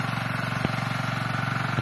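An irrigation pump engine on a calamansi farm runs steadily at close range, a loud, even idling chug with a fast regular pulse and a couple of brief knocks, no talking.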